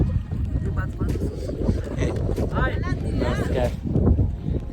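Fishing boat out on the sea during a pomfret fishing trip, its engine and wind noise a constant loud rumble beneath people talking nearby.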